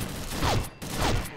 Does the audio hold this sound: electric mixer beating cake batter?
no